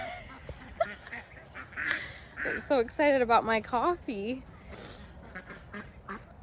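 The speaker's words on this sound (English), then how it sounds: "I just wanted to get out here and see it, and then they were quacking." Ducks quack excitedly in a garden at close range, a quick run of nasal calls in the middle, over someone talking.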